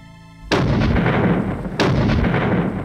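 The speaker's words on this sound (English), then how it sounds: "As Nelson attacked Calvi, a vigorous artillery duel was underway." Two heavy artillery blasts in a battle, each a sudden loud boom that rolls on with a long, dense rumbling tail, the second arriving about a second and a half after the first, with no voices.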